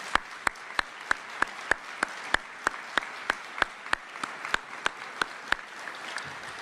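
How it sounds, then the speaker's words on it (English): Audience applause at a U.S. Army Medal of Honor Hall of Heroes induction ceremony, honoring the recipients: sharp, evenly spaced claps that fall into a slow, steady rhythm for several seconds, moderately loud and without talking. "Can you please give them a round of applause for being here?"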